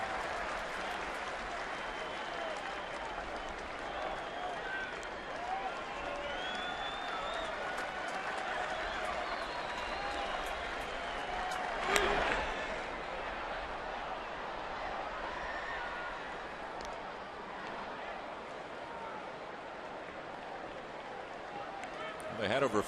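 Big crowd at an evening baseball game in a Texas stadium, Angels at Rangers, a steady broad wash of applause and cheering that stays fairly constant and swells briefly, with a commentator talking over it.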